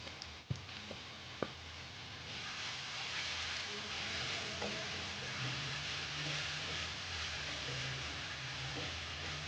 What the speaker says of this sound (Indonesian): Dan saya tumis bawang putih terlebih dahulu.